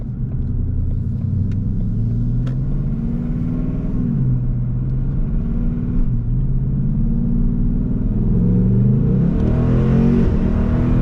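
A Ford Mustang driven in sport mode on back roads, its engine rumbling steadily and rising in pitch as it accelerates, loud and close throughout with no talking.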